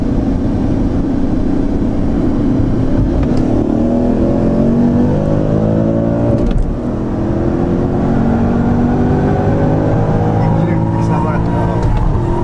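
A BMW M5 E39 racing a Hartge BMW M6 Convertible, engines droning loudly and revving through rising gear pulls, heard from inside a car with people talking.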